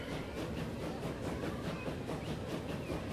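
A rumbling, hissing train rolls along in the video game Transport Fever, a continuous low wash of rail noise at moderate distance with faint rhythmic pulses and no voices.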